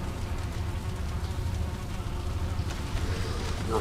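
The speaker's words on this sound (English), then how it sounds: "You'll hear flies buzzing" Steady insect-like buzzing of flies near a dragon spawner in the Valheim video game, continuous and fairly even under a noisy ambient bed with no talk.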